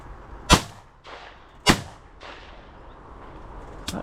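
Two sharp shotgun blasts at pigeons over a bean stubble field in the morning, spaced about a second apart and each trailing off, followed by a third fainter report, outdoors at moderate distance.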